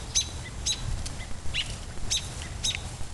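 Wild birds call in short, bright chirps, about five spaced bursts over a few seconds, fairly distant against a low rumble of outdoor background noise.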